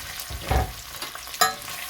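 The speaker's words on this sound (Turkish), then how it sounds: "Güzelce karıştırıyoruz." Vegetables for a Turkish güveç-style türlü stew fry in a pan and get stirred, with two firm scraping strokes over a steady close-up sizzle.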